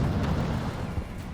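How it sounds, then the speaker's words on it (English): In a Total Tank Simulator battle, a deep, heavy artillery rumble rolls on without a break, loud and low. No distinct separate blasts stand out. "here comes the arty trying to support me as I come up over this hill"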